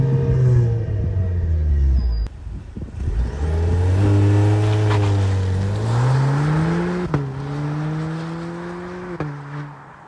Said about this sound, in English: we'll put a clip of how the exhaust sounds